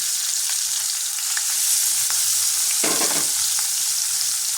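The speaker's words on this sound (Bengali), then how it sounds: "এরকম করে লাল লাল করে ভেজে নেবো মাছগুলো।" Fish pieces fry to a reddish colour in a pan of hot oil for a masala fish curry, a loud, continuous sizzle with a brief burst of heavier spitting partway through.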